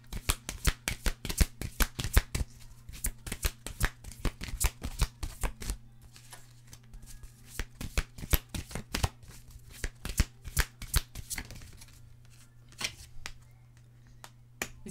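Tarot cards are shuffled and drawn in a long run of rapid, crisp riffling flicks, dense and close, with brief pauses and a softer patch toward the end; a steady low hum sits underneath.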